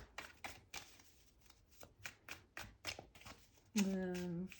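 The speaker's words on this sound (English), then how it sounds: "I'm gonna shuffle the cards." Tarot cards are riffled and tapped in a quick series of crisp bursts, followed by a short voiced sound at the end.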